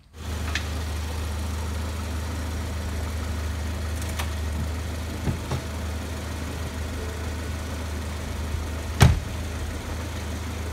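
A Ford Explorer engine runs steadily at idle after a transmission fluid change, a low constant hum with a few faint knocks and one sharp click near the end.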